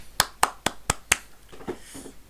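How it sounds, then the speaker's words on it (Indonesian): Applause during an online web conference: about five sharp, separate claps in a quick even rhythm, then fainter softer taps trailing off. "Tepuk tangan dulu dong"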